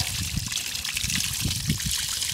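Water flowing from a Mercury 90 HP four-stroke outboard motor running on flush earmuffs: a continuous splashing trickle and stream with a hissy spray and uneven low gurgles, fairly loud and close, with no talking.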